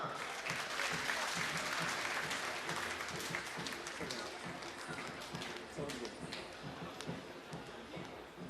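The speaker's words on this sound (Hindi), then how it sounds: "तो चला ताली बजावा।" A crowd at a Hindu gathering honouring a Shankaracharya in Mauritius claps steadily and loudly for the whole stretch, dense overlapping hand claps with voices mixed in.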